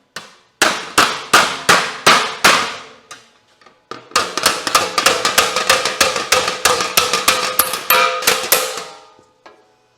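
Hammer blows ring on sheet metal: five or six spaced strikes, a short pause, then a fast run of repeated clanging hits, close and loud.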